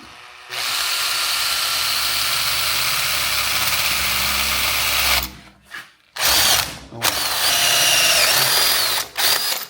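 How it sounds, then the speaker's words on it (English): A power drill drilling metal held in a vise whines loudly and continuously, then stops and restarts in short bursts, its high-pitched grinding dominating the sound. "let's go and get busy with the drill"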